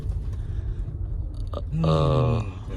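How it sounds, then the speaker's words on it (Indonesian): A Toyota Camry Hybrid brakes while regenerative charging runs, producing a steady, slightly falling electric whine from the motor in the transmission. The whine rises out of a low cabin rumble partway through and holds for under a second. "nah itu suara ngerem dan suara itu dia ngecas si motornya"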